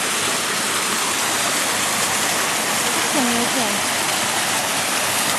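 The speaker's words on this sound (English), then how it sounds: "which goes across the river." River flowing beneath a natural stone bridge, a dense, steady rushing of water filling the scene at constant loudness, with a faint brief tonal call briefly over it.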